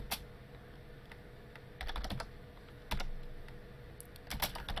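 Computer keyboard keys are typed in short irregular bursts of quiet clicks with pauses between them, close and clear, with no voices.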